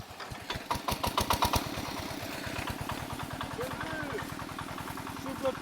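Walk-behind tractor hauling firewood, its small engine putting along in a fast, even chug that picks up as it sets off, close by, with people talking over it.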